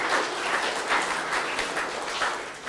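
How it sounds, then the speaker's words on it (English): An event audience applauds an award winner with a dense, even round of clapping from a crowded room, with no voices over it. "Congratulations to you, Izzy. A round of applause."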